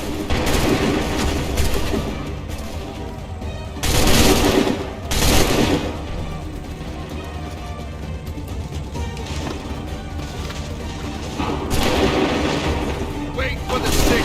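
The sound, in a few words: gunfire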